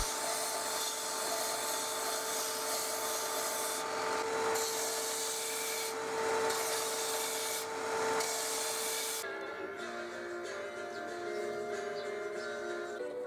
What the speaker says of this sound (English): I then shaped the end of the fretboard on the belt sander.